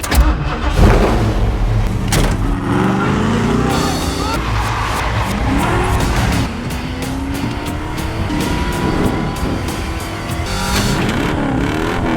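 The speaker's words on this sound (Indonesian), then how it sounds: "Setelah menemukan mobilnya, John pun bergegas membawanya pergi" A car in a film scene roars off in a hurry, its engine revving hard with tire squeals and skids over a loud, dense mix of film sound effects and score, sustained throughout.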